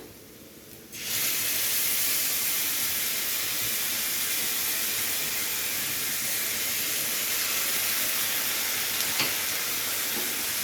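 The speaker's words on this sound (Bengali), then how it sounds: "আদা রসুনটা দিয়ে পেঁয়াজের সাথে খুব ভালোভাবে ভেজে নিতে হবে যতক্ষণে না কাঁচা গন্ধটা চলে যাচ্ছে।" Ginger garlic paste hits hot oil with golden-browned onions, bursting into a loud, steady broadband sizzle that holds evenly for about ten seconds, with faint stirring scrapes underneath and no talking.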